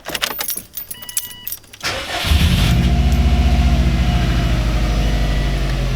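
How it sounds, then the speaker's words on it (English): Keys jangle and rattle briefly before a Subaru WRX, fresh from an oil change, cranks and catches, then settles into a loud, steady, throbbing idle close by. "now that the car is on the ground, we can go ahead and start it up"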